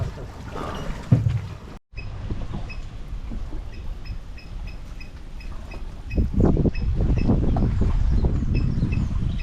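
A boat moves across water in Sri Lanka, its engine droning and hull churning steadily, growing louder and rougher toward the end after a brief cut.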